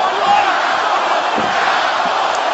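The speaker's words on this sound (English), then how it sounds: "The crowd chanting cowboy" Arena crowd at a UFC bout between Donald Cerrone and Yancy Medeiros roaring a rhythmic chant, a dense, loud wall of massed voices that stays steady through the short stretch.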